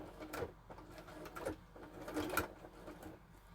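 A sewing machine top-stitches leaf details on a fabric teacup appliqué, running in short quiet bursts with a steady mechanical whir.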